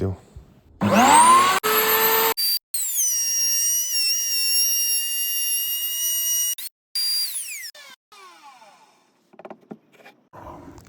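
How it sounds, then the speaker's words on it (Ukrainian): A wood router with a 16 mm bit cuts a groove in a 100 by 100 mm timber block. It spins up with a rising whine, holds a loud, high-pitched tonal scream for several seconds, then winds down with a few shorter bursts. "Далі нам потрібна фріза, щоб зробити канавку у нашій заготовці"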